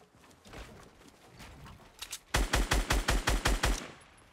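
A rapid burst of close, loud gunshots from the video game Fortnite, about ten evenly spaced cracks in quick succession after a few scattered, fainter shots.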